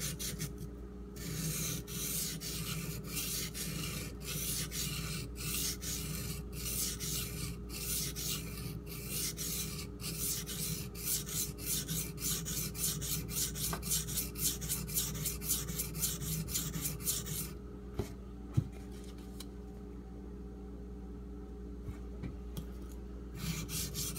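Steady back-and-forth scraping of a tanto-style blade on a sharpening stone, a rhythmic rubbing stroke repeated for most of the clip before it stops and a few light taps follow; close and fairly quiet with no talk.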